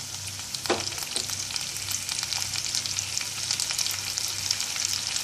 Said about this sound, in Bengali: এখন আমি দিয়ে দিচ্ছি কেটে রাখা আলুর টুকরোগুলো